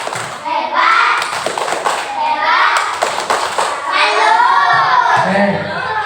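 Second-grade schoolchildren doing a rhythmic clapping chant in class, hands striking in patterned bursts while their voices chant together loudly and close.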